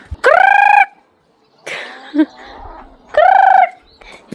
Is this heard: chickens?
yes